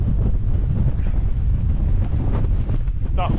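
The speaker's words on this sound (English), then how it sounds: "That wind still bites a bit." Strong wind buffeting a microphone on an exposed hilltop summit during a hike in the Stretton hills, a continuous loud roaring rumble with gusty swells throughout, no voices.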